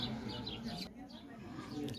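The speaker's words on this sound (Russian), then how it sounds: "Птицы." Birds in a city street in Santiago de Compostela, giving short, bright chirps that recur close by over a busy outdoor background.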